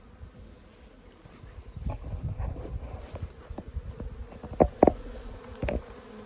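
Honeybees flying around a small hive after a transfer, a close fluttering buzz of several insects with passes growing louder toward the end.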